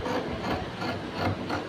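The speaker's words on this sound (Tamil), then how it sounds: "பாக்கி இந்த எக்ஸ்ட்ரா துணி இருக்கிறத கட் பண்ணிடணும்." Scissors snip through leftover fabric during tailoring, giving a close, steady rasping cut that runs for under two seconds with a few soft pulses and no talk.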